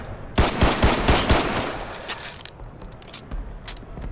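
Rapid pistol shots in the Roblox war game Vanguard, a quick burst of four or five close, punchy cracks in the first second and a half, followed by a lighter clatter of game sounds, with no talking.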